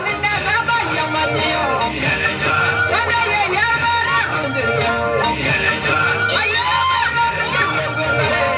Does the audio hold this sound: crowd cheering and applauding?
yes